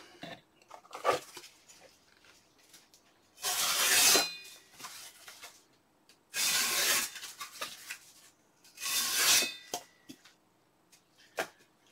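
A Cold Steel Pirate cutlass blade slices through cardboard in three distinct loud rasping cuts, each about a second long, with quieter scraping between them, close and without talk.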